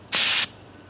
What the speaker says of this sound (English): This can contains about 7 seconds worth of spray and can spray between 20 and 30 feet.